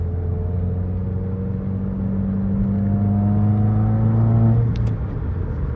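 A 2021 Subaru WRX engine pulls while driving, its tone rising steadily as it accelerates, then dropping sharply near the end, heard from inside the car.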